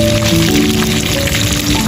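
Two fish grilling over an open fire on a windy beach at night, with a steady, dense sizzle and crackle throughout, loud and close, with no talk.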